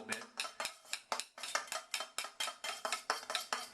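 A knife stirs a homemade shaving cream of aloe vera gel and coconut oil, giving a steady run of about fifteen close, wet scraping clicks against a dish in an even rhythm with no talking.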